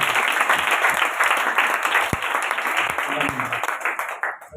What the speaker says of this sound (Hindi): अभी जोरदार यीशु के लिए जोरदार ताली